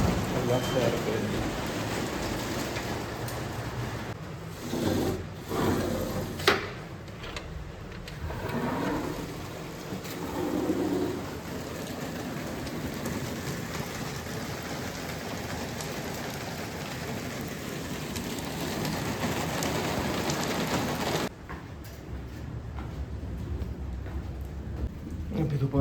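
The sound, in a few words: heavy stormy rain at night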